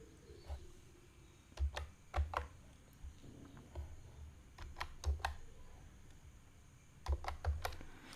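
Keys tapped on a keyboard while an OTP code is entered, in quiet, irregular bursts of soft clicks with short pauses, close by and faint, with no talk.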